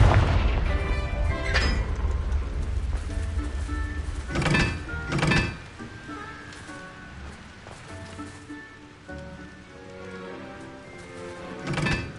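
The Confringo blasting spell in the game Hogwarts Legacy, several heavy explosive booms and thuds in irregular bursts with a softer rumbling game ambience between them.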